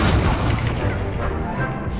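An Incendio fire spell cast in Hogwarts Legacy erupts as a dense, loud rushing blast with crashing impact noise, sustained and close, no speech.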